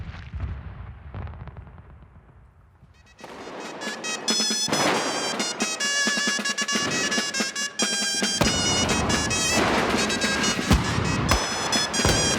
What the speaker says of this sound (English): men, women, children, they love fireworks.